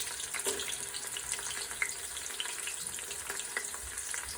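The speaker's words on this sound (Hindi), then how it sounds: "ज़्यादा ब्राउन नहीं करेंगे प्याज को, हल्का फुल्का बस ब्राउन कर देंगे" Onions frying and lightly browning in a pressure cooker pot give a soft, continuous sizzle with occasional stirring taps, fairly quiet and without speech.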